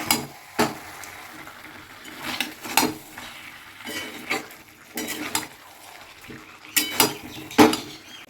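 Spoon stirring chicken with sour yogurt in a pan, a series of sharp scraping clinks at irregular intervals over a faint low background, fairly close and moderately quiet, no voices.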